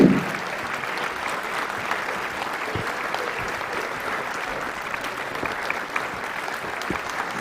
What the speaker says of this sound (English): Keep the applause going, it's a long way up.